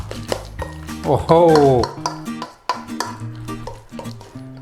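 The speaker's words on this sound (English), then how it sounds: "So a quick little stir in, get that juice in there." A utensil stirs and clinks in a bowl as lime juice is worked into mashed avocado for guacamole. A person speaks briefly over the clinking and scraping.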